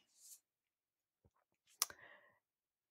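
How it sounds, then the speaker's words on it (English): A quiet computer mouse click in an indoor desk setting, a crisp double tick followed by a faint rattle, with a soft brief noise just before and otherwise near silence. "I double click on it."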